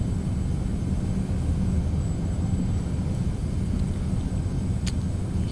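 In a flight simulator game, an airliner lands with thrust reversers deployed, producing a broad, steady roaring rush of jet engine noise with a low rumble throughout and a faint brief click near the end.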